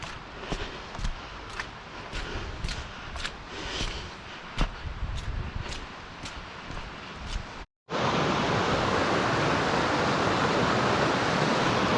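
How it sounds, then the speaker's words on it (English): River water rushing through a wild rainforest, a steady dense roar that swells suddenly louder and closer halfway through after earlier softer flowing with faint clicks and footsteps. "I think I'm getting closer to the river."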